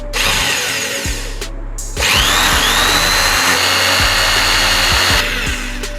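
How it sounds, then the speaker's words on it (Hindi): An electric drill fitted with a concrete (masonry) drill bit bores into a piece of wood, a steady loud motor whine with grinding from the bit, briefly dropping out before resuming strongly and continuing alone. "मैं ये जो कंक्रीट वाला ड्रिल बिट है इसी के साथ कोशिश करता हूँ कि इसके अंदर भी ड्रिल करके दिखा दूँ"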